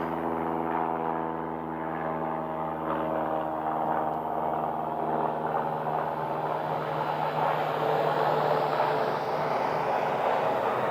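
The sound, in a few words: Piper training aircraft flying at Scottsdale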